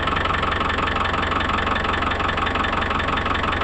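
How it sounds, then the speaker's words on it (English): A Land Rover Discovery 1 diesel engine idles with a steady, even knocking chug, close and loud, unbroken for the whole stretch. "Definitely a diesel."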